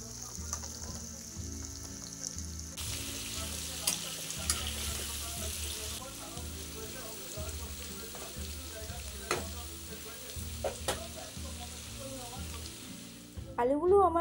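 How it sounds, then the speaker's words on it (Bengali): Potatoes sizzle in mustard oil left over from frying pangas fish, a soft continuous crackle with occasional stirring scrapes and clinks, fairly quiet and close, with no talking. "ওই মাছের তেলের মধ্যেই আমি এখন আলুগুলো ভেজে"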